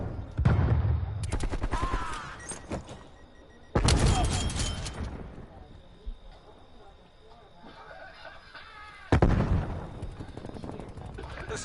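A hostile sentry turret opens fire in a video game. Several bursts of rapid automatic gunfire come in separate volleys with pauses between them. They are loud and close, and voices and game sounds run between the bursts.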